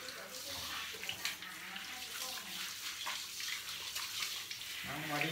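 Water runs and splashes steadily from a tap while a cat is bathed, a close hiss of flowing water with a person's voice talking faintly underneath.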